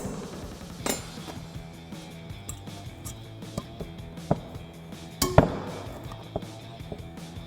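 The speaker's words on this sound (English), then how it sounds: "we're just gonna take our old clip and just push it off. Take our new one, just slide it over" Metal brake pad clips on a 2006-2018 RAM 1500 brake assembly are pushed off and slid on, making scattered light metallic clicks and clinks with a couple of sharper taps, close and fairly quiet.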